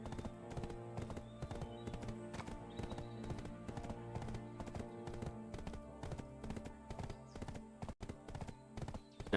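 Steady clip-clop of horse hooves from a newbie horse in the online game Black Desert Online, a regular rhythm running throughout over layered game music and ambience.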